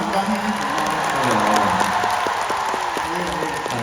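A concert audience applauds a singer, a guest at a live show, with a dense patter of clapping. An amplified voice speaks over the applause.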